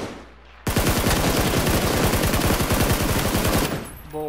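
Automatic gunfire in the video game PUBG bursts out suddenly as one loud, continuous rapid-fire stream for about three seconds, then stops abruptly.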